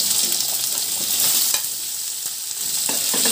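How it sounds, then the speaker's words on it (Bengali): Diced pumpkin fries and is stirred in hot oil with cumin seeds in a pan, giving a steady close sizzle with scraping stir strokes throughout and no talk. "কুমড়ো দিয়ে একটু মিশিয়ে নিচ্ছি।"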